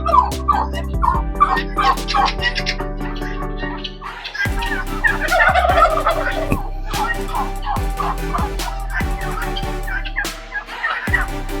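Turkeys at a farm house gobble loudly and repeatedly in overlapping bursts, close by, with no one talking.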